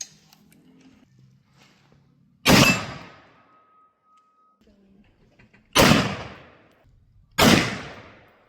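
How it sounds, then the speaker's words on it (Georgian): Three loud, sharp 5.56 rifle gunshots fired at a steel gong, each with a ringing metallic decay, spaced a few seconds apart, with faint low murmur between shots. "რამოდენიმე გასროლას გავაკეთებთ გონგზე."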